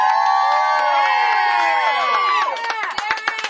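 A small studio crowd whoops and cheers during a morning radio show's cinnamon challenge, loud and close, with overlapping shouts and a few sharp claps or knocks near the end.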